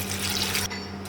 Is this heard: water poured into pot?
yes